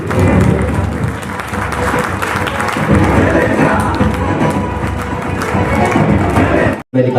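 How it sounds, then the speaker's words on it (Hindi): An audience at a business presentation in India greets a speaker with loud, sustained applause and scattered cheering, the clapping dense and continuous before cutting off abruptly near the end. "जोरदार ताली इनके लिए"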